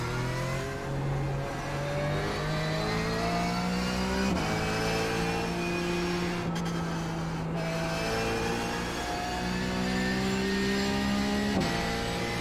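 Porsche 911 GT3 Cup car engine in iRacing at Interlagos drones steadily at high revs, pitch climbing through gears with shift breaks near four and twelve seconds, loud and unbroken without talk.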